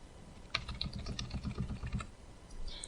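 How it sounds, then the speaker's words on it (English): Arrow keys tapped several times on a computer keyboard, giving a close, quiet run of crisp clicks with no talk. "I'll press the arrow keys a few times"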